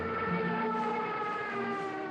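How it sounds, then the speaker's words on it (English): A Stuka dive bomber's siren screams during its dive, a loud, sustained, steady wail with a strong harmonic whine and no pauses. "Just as Stuka enters its dive, it switches on the siren and it generates this horrendous screaming sound."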